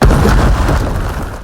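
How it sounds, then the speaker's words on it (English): A sustained, heavy rumble of timed bombs detonating in a Tokyo film scene, the booming blast loud and close with a rolling low-end roar that decays slowly over a second and a half. "After a series of violent explosions,"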